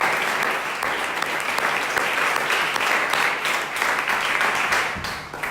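Congregation in a church applauding steadily, a dense, continuous wash of many hands clapping at close range for several seconds without pause, with no voices rising above it.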